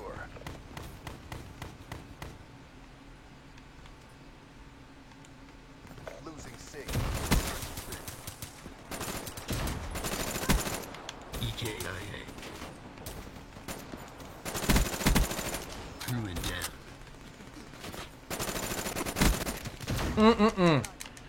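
Sniper gunfire in a video game, with loud bursts of shots arriving in clusters over an ongoing game soundscape, while a person talks over the action.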